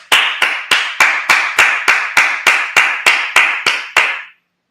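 A congregation at a Sabbath service clapping in unison, about a dozen loud, evenly spaced claps in a steady rhythm that stops abruptly.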